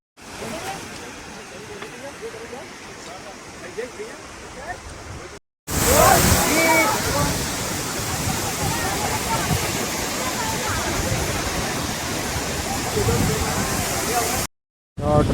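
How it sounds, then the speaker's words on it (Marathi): The Ranpat waterfall in Ratnagiri, beside a railway track, gives a steady, full rushing roar of falling water. It grows louder and closer after a short silent break, then cuts out briefly again near the end. "वॉटरफॉलच्या शेजारीच लागून या ट्रेन ट्रॅकला लागूनच हा वॉटरफॉल."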